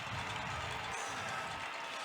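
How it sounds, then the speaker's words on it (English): A football stadium crowd at a high school state championship game roars in a broad, steady wash of cheering and applause that holds at a continuous level across the stands. "Listen to this crowd."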